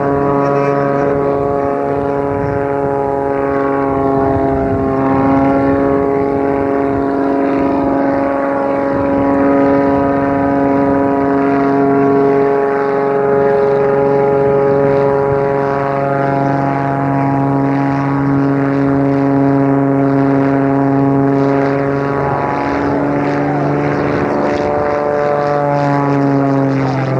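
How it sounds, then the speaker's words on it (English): A Harrier jet creeps slowly across the field at a 1994 Rhode Island Air National Guard air show, its engine a loud, steady, layered whine and roar that holds nearly unchanged for the whole pass while a commentator talks over it. "behind the incredible Harrier pass"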